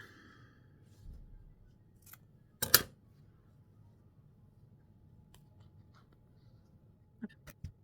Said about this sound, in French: on va couper le ruban qui dépasse.